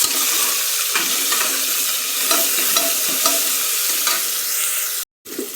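Fried onion and tomato get stirred in a hot pan, giving a loud, steady sizzle with scraping strokes of the spoon, then a brief dropout near the end.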